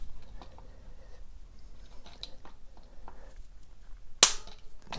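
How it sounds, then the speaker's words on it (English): A yellow pin clicks into a Tannus tire insert, giving one sharp, close click after several seconds of quiet handling noises. "when it goes down you hear a little click"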